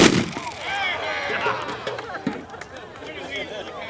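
A pirate cannon nicknamed the Noisy Cockroach fires one loud boom at the very start at a Renaissance fair, followed by crowd chatter, cheering and voices.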